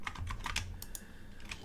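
Computer keyboard keys pressed in a quick cluster of close clicks and clacks while working in Blender, a handful of taps then a brief pause.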